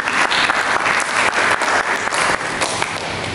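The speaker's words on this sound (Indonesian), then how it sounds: "Berikan tepuk tangan bagi Yesus Kristus." A church congregation bursts into loud, sustained applause for Jesus Christ during a sermon, a thick, continuous clapping that stays strong throughout.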